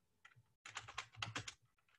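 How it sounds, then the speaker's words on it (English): Quick bursts of keystrokes on a computer keyboard, a brief tap followed by a denser flurry of typing, close and quiet in a still room. "So all I need to do is just type Google."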